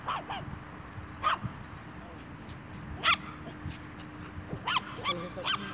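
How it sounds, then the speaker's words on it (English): A dog barks in short, separated bursts against a steady background hum, with a few sharp yips spaced irregularly and a faint voice in the background. "I don't even think she knows what she's barking at anymore"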